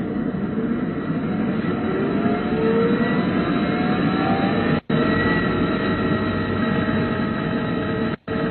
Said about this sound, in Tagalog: Gumagana na ang 4 na makina ng barko.